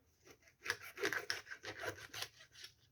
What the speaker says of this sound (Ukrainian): тепер буду різати рибку. Рибку різатиму так на кусочки